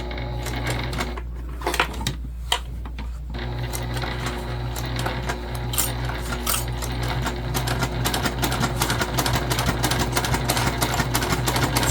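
A Juki TL2010Q sewing machine stitches leather in a steady, rapid mechanical whir with a fast needle rhythm, close and continuous after a few short starts and stops.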